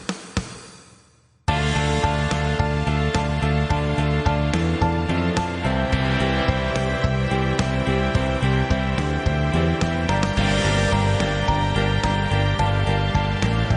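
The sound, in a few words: recorded song playing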